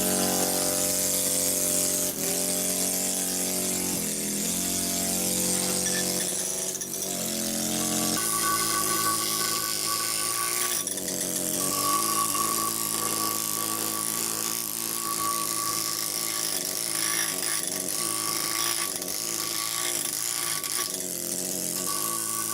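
A compressor-driven pneumatic carving tool works the inside of a bowl and basin, giving a steady, loud, close whine with shifting squealing tones and gritty noise that runs unbroken throughout, with no talking.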